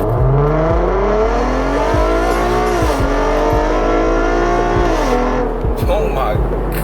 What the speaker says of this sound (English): I think we're gonna do another launch control here in a second.